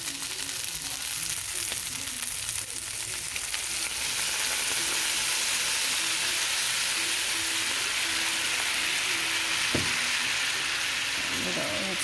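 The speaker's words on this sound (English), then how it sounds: "we're going to go ahead and add the balsamic vinegar" Honey chicken and potatoes sizzle steadily in a hot pan as balsamic vinegar goes in, a continuous close frying hiss with a brief sharp burst, without voices.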